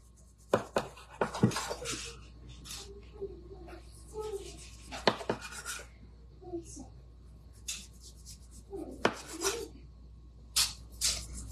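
Knife cutting food into roughly one-inch pieces on a cutting board while making cinnamon rolls and dehydrated apples, several soft scraping and chopping strokes spaced apart, close and quiet, with a voice speaking softly.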